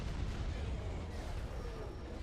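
Starship weapons fire in a space combat video game, a dense roar of booming blasts and rumbling explosions packed together without pause, loud and close throughout.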